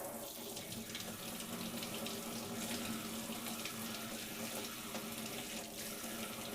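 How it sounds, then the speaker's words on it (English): Warm water runs steadily from a kitchen tap into a container, a continuous close splashing rush that holds at an even level throughout with no talking. "I'm just going to go ahead and fill this up with some warm water."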